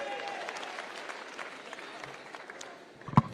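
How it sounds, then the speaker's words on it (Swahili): Applause at a political rally for an honourable speaker, a steady spread of clapping from a crowd with a sharp loud clap or knock near the end. "Makofi kwa mheshimiwa tena"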